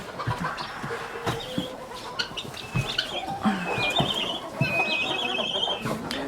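Chickens and guinea fowl in a coop, with scattered clucks and sharp chirping calls rising and falling over a busy background, some calls near and others farther off.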